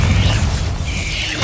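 A Bombarda explosion spell going off in Hogwarts Legacy, one short, loud, rumbling blast that fills the whole moment without a break.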